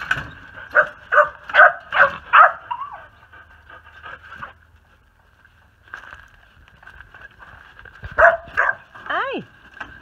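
Puppies yip and bark in a quick burst of sharp, close calls, go quiet briefly, then yelp again near the end with a high whining squeal.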